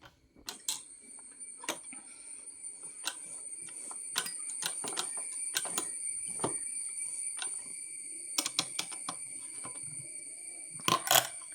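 Quick, sharp plastic-and-metal clicks come from a sewing machine presser foot being pressed off and a new one snapped on. The clicks arrive in irregular bursts, close and fairly quiet, over a faint steady high-pitched tone.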